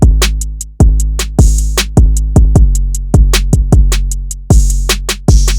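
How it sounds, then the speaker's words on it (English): Programmed trap-style drum pattern for an energetic sample beat, with booming kick and long sliding 808 hits landing in an irregular, syncopated rhythm, topped by loud open hi-hats; the drums play alone, close and punchy. "Putting all of those together gives you a super complex drum pattern that sounds like this."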